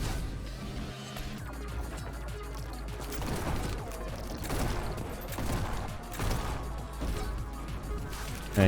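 Rapid gunshots and fireball blasts ring out in Neon White, a fast run of sharp cracks and bursts over busy game music and effects for several seconds.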